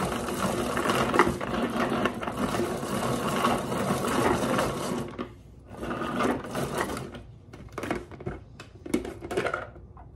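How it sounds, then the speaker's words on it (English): Small electric food chopper whirring as it chops salad ingredients, a continuous buzzing motor for about five seconds, then several shorter pulsed bursts close up. "I'm gonna put them in my little chopper hopper thingamajiggy. I wanna chop them up"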